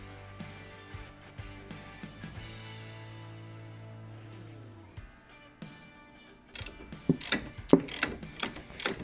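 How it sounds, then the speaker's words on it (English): A hand ratchet turning brake caliper bracket bolts on a C4 Corvette, close clicking ratchet strokes with metallic knocks and clatter growing louder toward the end. "After you've cracked those nuts, it's as simple as using a regular ratchet."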